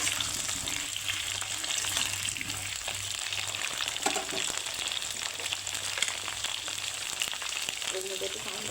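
Diced potatoes fry in hot oil in a wok for a chicken curry, giving a steady broadband sizzle with occasional stirring scrapes, close and continuous.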